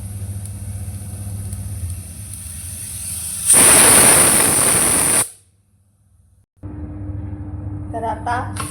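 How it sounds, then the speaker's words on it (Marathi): A pressure cooker cooking val papdi (broad bean) vegetables lets out one loud, hissing steam whistle lasting about two seconds, which then cuts off to near silence before a steady low kitchen hum returns. "3 शिट्ट्या घेते आता."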